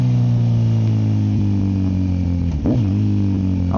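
Kawasaki Z900 motorcycle with a full M4 exhaust and flashed ECU, heard from the rider's position: a steady droning engine tone, then sharp throttle blips with a rising and falling rev during a downshift, close and loud.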